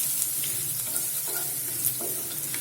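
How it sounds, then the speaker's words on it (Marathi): Garlic sizzles steadily in a hot pan for a Maharashtrian mixed vegetable dish, a close, constant frying hiss with occasional stirring scrapes and no talk. "लसूण पण छान परतून घेऊया लसणाचा कच्चेपणा जाईल"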